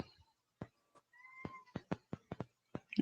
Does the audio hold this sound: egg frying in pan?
no